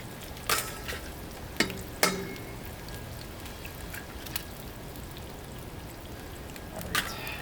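Eggs frying on a Blackstone flat-top griddle, a quiet steady sizzle with a few sharp scraping clicks of a spatula scattered through, no voices.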